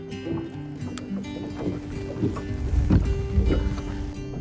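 A boat rocks and knocks on the water off South Louisiana with gusty wind buffeting the microphone, low rumbles and hollow thumps rising and falling.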